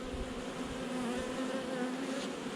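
Honey bees swarm around a hive of a large, aggressive colony, a dense steady buzz with a clear hum running continuously and close throughout, with no voices.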